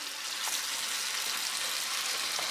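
Onion frying in a pan as it is stirred, a faint, steady sizzle with soft hissing crackle and occasional light scrapes, no talking.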